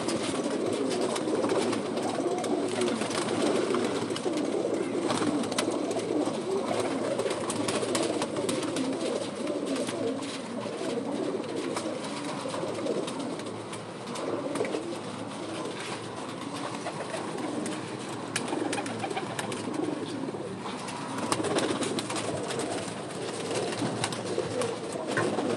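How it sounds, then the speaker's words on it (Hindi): Bajrai pigeons kept by a pigeon fancier coo in a dense, continuous chorus, with soft overlapping calls from several birds close by and steady rustling in the background throughout. "ये कबूतर बाजराई कबूतर है"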